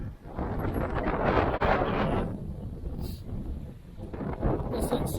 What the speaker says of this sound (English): This is super windy day.